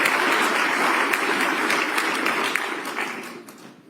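A roomful of people claps steadily in dense, close applause that holds loud for a few seconds, then thins and fades away at the end.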